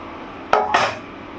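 A metal pan set back down onto a wok while cooking shrimp paturi, heard as a single sharp clank followed by a brief scraping rattle, close and clear in a quiet kitchen.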